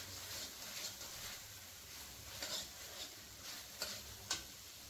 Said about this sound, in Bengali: তারপর 3-4 মিনিট ধরে কিন্তু এই মশলাটা আমি কষাতে থাকবো